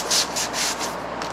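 Rhythmic back-and-forth strokes of 80 grit sandpaper rubbing over a Toyota Tundra's plastic fender flare, close and steady, with a few louder swipes standing out among the rest.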